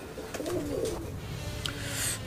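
Black Danish pigeons at a fancy pigeon farm give a few low, soft coos near the start, followed by faint background noise and a brief chirp.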